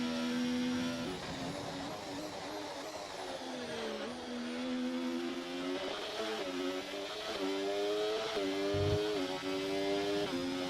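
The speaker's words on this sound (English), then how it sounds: "I need to listen to the engine more to get the gear shifts correct." Race car engine in the F1 2025 video game: a continuous, steady high-pitched whine that climbs and dips as it shifts through gears, with no talking.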